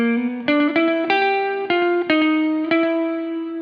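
Distorted electric blues guitar riff, a run of plucked single notes with slight bends, each attack ringing into the next at steady moderate pace, loud and close, unaccompanied and with no talking.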